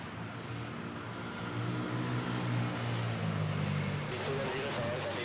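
Cebu Pacific Airbus A320 arriving from Caticlan and about to touch down at Manila Airport, a loud close engine roar with droning tones that swell and sweep as it passes, under a commentator's voice.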